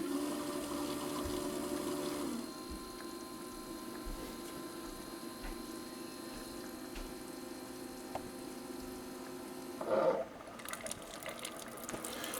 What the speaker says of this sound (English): I'm just going to go ahead and brew some hot water